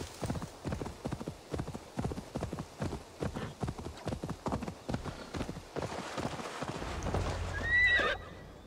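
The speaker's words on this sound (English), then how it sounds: "Horse." Steady clip-clop of horse hooves trotting close by in Assassin's Creed Valhalla, followed by a loud whinnying neigh near the end.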